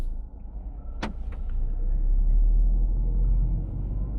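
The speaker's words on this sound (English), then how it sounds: "I'm going to hit a drive and start driving" A Citroen C3 Aircross 1.2 mild hybrid pulls away at night, its low engine rumble building steadily beneath a sharp click or thump near the start, with no voices over it.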